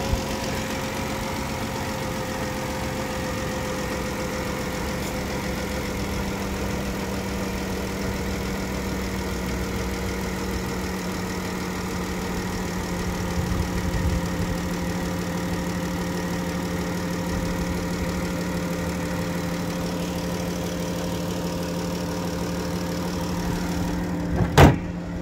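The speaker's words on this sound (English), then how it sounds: "The car is started right now." A 2014 Chrysler Town & Country van idling steadily with a constant low engine hum for about twenty-five seconds, close and even, ending with a brief clunk.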